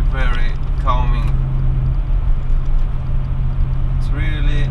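Audi Allroad 4.2 C5 V8 engine running at cruising revs, a steady low smooth drone heard from inside the car, with someone talking over it at the start and end.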